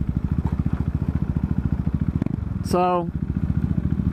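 A Honda CBR 1000RR motorcycle ridden at night runs with a steady, pulsing engine drone close by, with a brief voice over it and a short high tone near the end.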